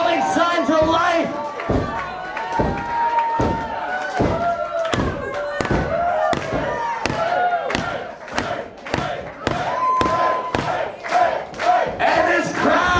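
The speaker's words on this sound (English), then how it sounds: "this crowd coming unglued for Mentallo" A wrestling crowd at a Dangerous Goods show roars in a loud, continuous swell of cheering and yelling for Mentallo, punctuated by heavy rhythmic thuds, likely stomping or ring impacts, with shouting voices throughout.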